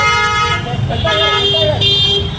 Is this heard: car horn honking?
yes